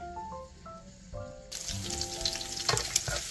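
Chopped garlic, about six to eight cloves, frying in cooking oil in a pan as the start of a dinuguan with white turnips; after a quiet moment a loud, steady sizzle bursts up and continues close by, with no talk.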